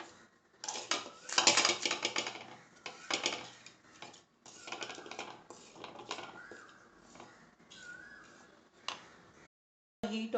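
Pav bhaji masala mixture with red chili powder being stirred in a pan, with close, clattering scrapes and clinks of a utensil against metal in uneven bursts, trailing off into quieter taps and a short pause.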